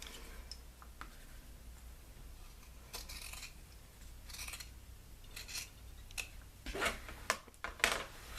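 Scissors snip through sweatshirt fabric along a cut line for a small bottom vent, a quiet series of scattered crisp cuts that grow busier and louder toward the end.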